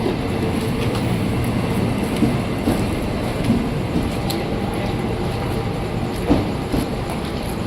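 A KRL Inka commuter train pulls out of the station bound for the Depok depot, a loud, steady rumble of wheels and rail noise filling the scene with occasional sharper clanks.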